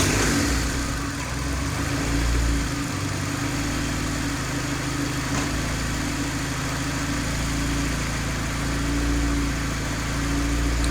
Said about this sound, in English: I'll go ahead and start it up